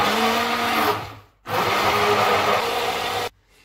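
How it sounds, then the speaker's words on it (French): A blender runs loudly, mixing semolina batter with two eggs and baking powder for baghrir, with a steady whirring motor that stops briefly around the middle before starting again, then cutting off near the end. "je vais encore mixer pendant 3 minutes"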